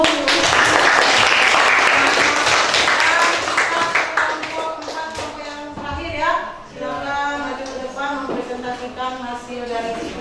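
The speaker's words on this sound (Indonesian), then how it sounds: "kita beri aplaus dulu" Classroom applause after a group presentation in a school lesson, a dense burst of many hands clapping that gradually thins out, with voices calling over it as the clapping fades.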